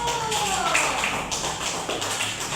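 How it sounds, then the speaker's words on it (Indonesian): A primary school class applauds a student group, with dense, close clapping filling the room for a couple of seconds. Some voices can be heard among the claps. "kita kasih aplaus kepada kelompok 1"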